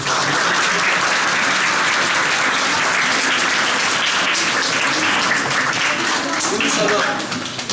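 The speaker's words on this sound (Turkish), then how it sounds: "Bir alkışlamamız gerekiyor." An audience claps at a 2019 library opening ceremony, a loud, dense, continuous roar of applause that holds steady throughout and tapers slightly at the very end.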